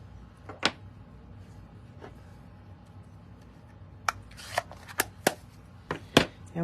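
A rubber stamp pressing a Merry Christmas greeting onto paper at a craft table: several sharp, close taps and thumps, some in quick succession, against a quiet background.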